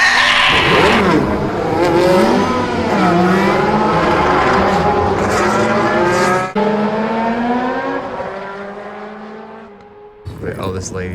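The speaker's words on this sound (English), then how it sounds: "gentlemen, start your engine!" A car engine revs and races loudly with rising and falling whines and tire-squeal tones, sweeping up repeatedly, then cutting off briefly before a final burst of noise.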